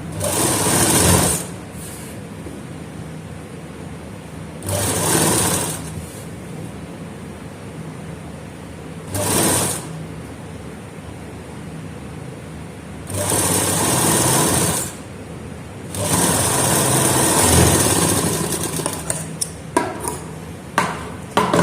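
Electric sewing machine stitching a rolled fabric strip onto a round neckline, running in several loud bursts of steady whirring separated by quiet pauses, close up with no talk.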